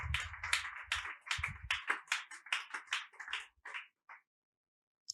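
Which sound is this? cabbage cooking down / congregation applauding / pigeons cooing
congregation applauding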